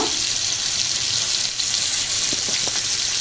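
Fish frying in hot oil, a dense, steady bubbling hiss up close, with a few faint clicks near the end.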